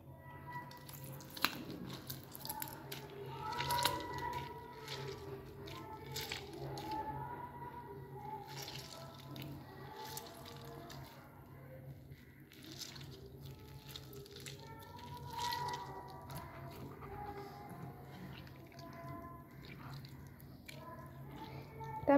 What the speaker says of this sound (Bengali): হাত দিয়ে চটকি আমি জুসটা বের করে ফেলছি।